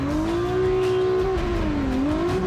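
Nissan GT-R producing around 2,600 horsepower at the engine, at a festival, a loud, close engine revving with a steady high whine that dips briefly and climbs again.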